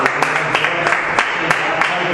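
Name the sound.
congregation applauding in church service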